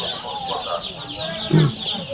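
Young chicks at a village market in Gazipur, clucking and chirping close by over a low murmur of market bustle, with one louder call near the end.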